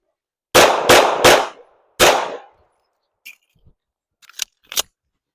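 Handgun drill shots, three to the chest and one to the head: three quick loud cracks in a tight burst, a short pause, then a fourth crack, followed by faint clinks and small metallic clacks.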